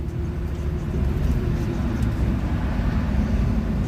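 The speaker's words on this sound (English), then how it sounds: "You can tell I'm driving." Steady low rumble of road noise inside a moving car, a constant droning hum with no distinct events, fairly loud and close with no talk.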